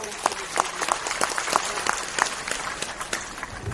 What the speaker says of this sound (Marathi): आपल्यासाठी एकदा जोरदार टाळ्या